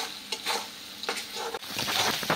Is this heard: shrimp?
yes